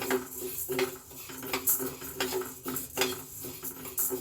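Chutney powder ingredients being dry-roasted in a pan, with repeated scraping and clinking of a utensil against the pan in an irregular rhythm, close and fairly quiet.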